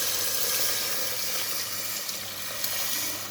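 Hot water pours steadily onto broth of rice and lamb, producing a continuous soft hiss of running liquid with a couple of faint knocks near the end.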